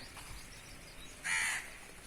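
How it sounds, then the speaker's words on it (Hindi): Crows eating grapes in a village yard give one short harsh caw partway through, fairly distant, against quiet outdoor background. "कौवे आ गए हुए हैं ना"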